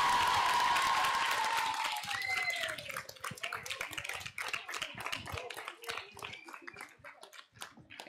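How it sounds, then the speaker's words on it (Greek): Applause for schoolchildren after their performance at a school event, a burst of clapping that starts strong and thins into scattered claps, with a tonal whistle-like sound and voices mixed in. "ένα χειροκρότημα για τα παιδιά."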